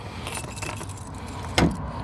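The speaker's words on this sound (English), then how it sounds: "on this car you unlock by flipping the badge, putting the key in" Keys jangle as a key goes into the flipped badge lock to release the bonnet of a 2005 Mk1 Ford Focus. The close metallic rattle ends in a sharp click.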